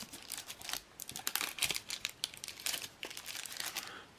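Paper being folded by hand to the length of a matchbox for a DIY firestarter kit, giving close, continuous crinkling and creasing rustles with sharp crackles, alone without talk.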